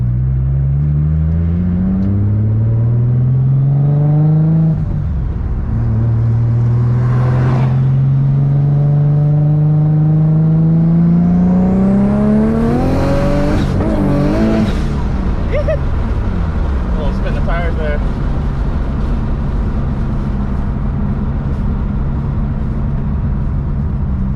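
A 700whp boosted Infiniti G35 revs hard through a burnout, its engine climbing and falling in loud sweeping pitches up close, with a burst of tire squeal and rising boost noise mid-way before settling into a steady rumble.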